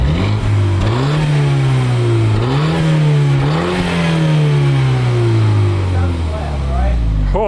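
A new turbocharged car's exhaust revs loudly up close in a few rising and falling pulls, throaty and continuous, before settling into a lower idle; no one speaks over it.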